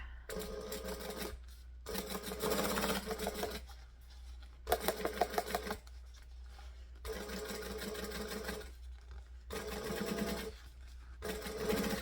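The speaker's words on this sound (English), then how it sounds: "Fold it towards the main panel, and then we're going to top stitch." A sewing machine top-stitches a fabric bag panel in several short, quick bursts of rapid needle clatter, separated by brief quiet pauses, heard close up.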